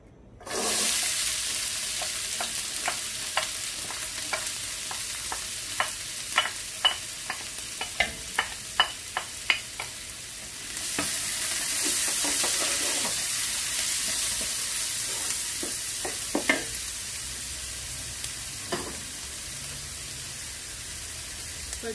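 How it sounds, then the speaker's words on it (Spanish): Chopped onion dropped into a hot pot and frying for Guatemalan chiles rellenos, a steady hiss with a run of sharp spoon clicks early on, the sizzle swelling louder midway, no talking. "La olla ya está caliente, voy a empezar echando la cebolla."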